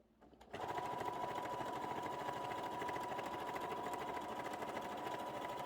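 Sewing machine sewing a straight seam with right sides together at a longer stitch length, starting after a brief quiet moment and running as a steady, close, rhythmic whir to the end.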